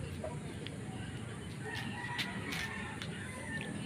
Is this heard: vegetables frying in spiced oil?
no